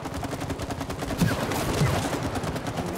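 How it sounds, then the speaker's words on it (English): Rapid gunfire from the video game It Takes Two, a continuous stream of quick repeated shots at steady volume, with a faint voice underneath. "Shooting."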